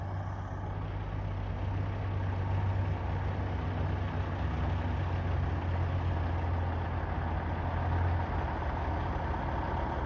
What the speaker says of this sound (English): A couple of the trucks rolling in.